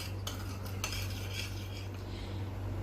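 A spoon stirs dalgona coffee mixture in a bowl, giving a few metallic clinks and scrapes against the bowl over a steady low background hum.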